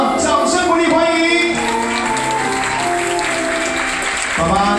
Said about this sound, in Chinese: 让我们响起热烈的掌声，欢迎新娘以及女方主婚人进场